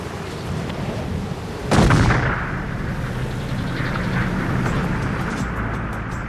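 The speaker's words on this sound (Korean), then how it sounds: "폭발이 제대로 이루어져 위험 지역의 눈이 쓸려 내려갔다" A single loud explosive blast for avalanche control, set off just above the snowpack on a mountain slope, cracks sharply and then rumbles and rolls away, followed by a long, steady roar of sliding snow.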